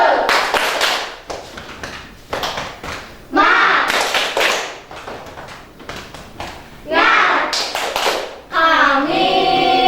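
A class of children does a rhythmic spirit clap, loud patterns in quick bursts, alternating with chanted shouting voices in unison.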